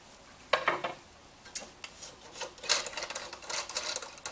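Metal parts of a Coleman Northstar gasoline lantern being taken apart, giving scattered clinks, taps and scrapes at close range in an irregular rhythm with no talking.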